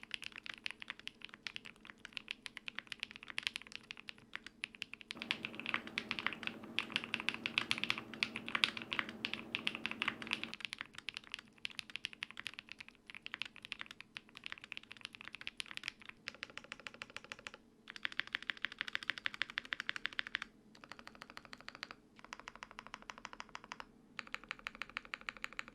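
Typing on a custom Leo80 gasket-mounted mechanical keyboard with Holy Panda switches and full foam, a steady stream of close, crisp keystroke clacks in bursts with brief pauses and no talking.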